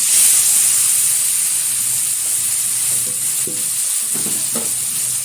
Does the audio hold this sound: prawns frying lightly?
yes